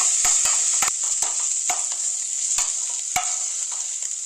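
Tomatoes sautéing in a pan for goat liver curry: a steady bright sizzle runs throughout, broken by sharp scrapes and clinks of a spoon stirring every half second or so.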